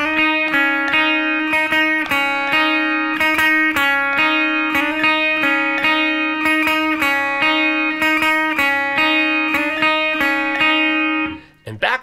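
Second droning electric guitar part from a song's outro, a rhythmic series of sustained notes over a constant low drone, loud and near, with a brief voice at the very end.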